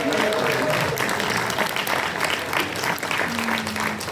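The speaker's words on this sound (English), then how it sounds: "applause for the hero of the day" Steady applause from a convention panel audience at a sci-fi con, dense clapping sustained throughout with faint crowd murmur and a brief voice partway through.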